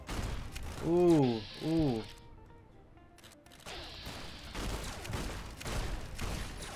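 Gunfire crackles in the Fallout video game, with bursts of shots and mechanical clatter, while a player's voice exclaims over the noise.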